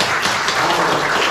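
A church congregation claps together, a dense, even wash of applause that is loud and close throughout.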